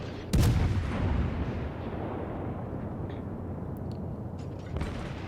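Naval guns fire a salvo in World of Warships with a sudden sharp blast near the start, then a long rumbling tail. A second, softer report comes near the end, set over a steady low engine drone.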